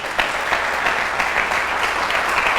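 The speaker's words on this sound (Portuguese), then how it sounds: "Dá um aplauso a Jesus por isso." Congregation applause in a church service, a dense, steady wash of many hands clapping together, fairly loud and continuous with no voices over it.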